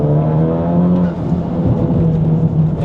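A turbocharged, remapped car pulls hard in second gear on a rough road, a loud, close engine drone rising steadily with no break.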